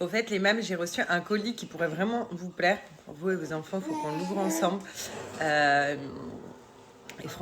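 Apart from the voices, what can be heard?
No everyday noise stands out behind the speech.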